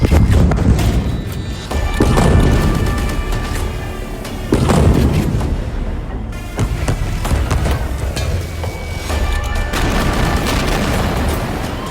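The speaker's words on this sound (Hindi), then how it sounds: "ऐसे ही गाजा में और धमाके देखिए।" Bomb explosions strike Gaza, a series of heavy, deep booms every couple of seconds, each rolling out into rumbling debris noise at a loud, sustained level.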